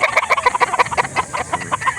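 Gamefowl roosters at a Calauan poultry market clucking steadily: a rapid, near series of repeated short clucks from several birds, fairly loud and continuous, with no talk.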